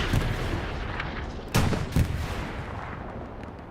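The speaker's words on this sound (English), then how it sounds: "Rockets are pumping into this IS-1" Rockets slam into an IS-1 tank in Hell Let Loose, two sharp heavy blasts standing out from a constant rumble of distant battlefield gunfire.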